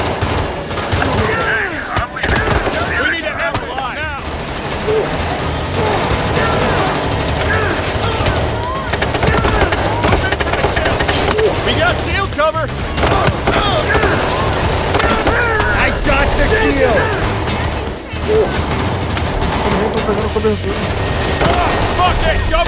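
Rapid gunfire from a Payday 3 shootout against zombies, with dense bursts of automatic weapons and shots layered continuously over a loud, busy game soundtrack, with players talking throughout.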